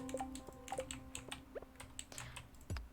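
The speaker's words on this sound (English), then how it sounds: "you guys can probably hear my keyboard a lot more now because I got a new keyboard" Rapid clicky keystrokes from a new mechanical computer keyboard, close and fairly quiet, tapping in an irregular rhythm with no talk.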